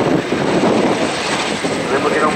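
An RAF Chinook helicopter from number 8 Squadron at an air show, a continuous loud rotor and engine roar with a rhythmic throb, close and unbroken throughout.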